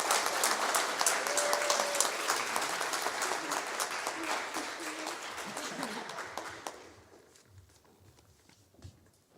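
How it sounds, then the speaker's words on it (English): A school assembly audience applauds sports certificate recipients at a Year 12 presentation, a broad, continuous crowd clapping that holds steady, then fades out over the last few seconds into near quiet. "So can we have a round of applause for our sports certificates?"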